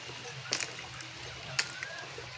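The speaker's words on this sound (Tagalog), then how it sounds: "Buhusan natin yung langka para magtuloy-tuloy." Water is poured over jackfruit wood while a chicken coop is being built: two brief splashing gushes, about a second apart, rise over a faint outdoor background and then trail off into a quiet trickle.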